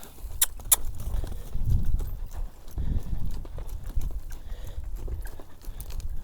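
Hooves clip-clopping on a hard surface at a slow walking pace, close by, over low rumbling background noise.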